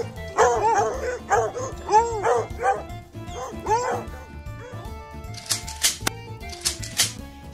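Two farm dogs snarl and bark at a fox in a burst of sharp, close barks and yips. A short rattling clatter follows near the end.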